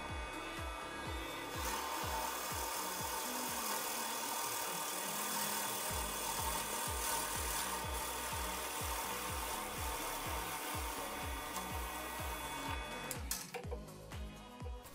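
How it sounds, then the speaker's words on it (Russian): Hand sanding of small drilled wooden parts for a homemade angle clamp in a workshop, a steady rhythmic back-and-forth scratching of abrasive on wood, close and continuous, with a brief clatter near the end. "После этого все немного подшкуриваю,"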